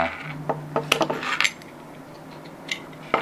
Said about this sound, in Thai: เอาค้อนค่อยๆเคาะๆเคาะมันออกมา